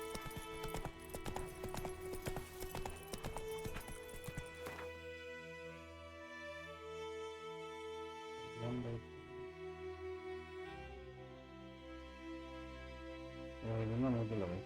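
Hooves of Roach, Geralt's horse in The Witcher 3, clip-clop in a quick, steady rhythm under loud orchestral game music, clearest over the first five seconds before the music takes over.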